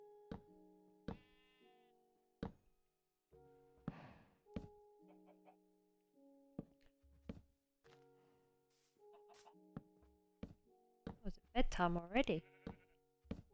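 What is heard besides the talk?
sheep bleating in Minecraft video game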